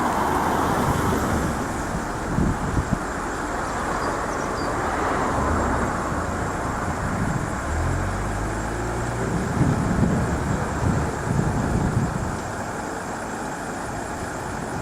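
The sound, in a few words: tow truck engine idling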